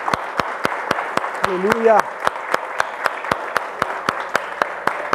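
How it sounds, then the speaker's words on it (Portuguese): Church congregation clapping in praise, sharp, evenly timed claps in a steady beat, with a brief spoken exclamation partway through. "Vamos bater palmas, vamos."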